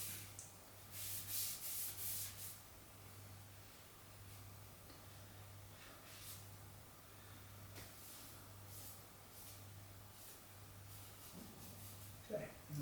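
Dirt is rubbed off garden loppers with a steady, soft scrubbing that continues without break over a low, constant hum, faint and close.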